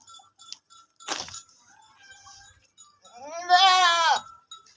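Goat for sale at a bakra mandi livestock market in Karachi, one short cry early, then a long, loud, wavering bleat near the end, quiet in between.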